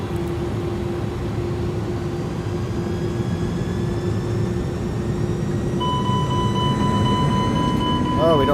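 In Microsoft Flight Simulator, the iniBuilds A300's engines surge to takeoff thrust, a loud sustained jet roar with rising whining tones building toward the end, while a voice speaks over it.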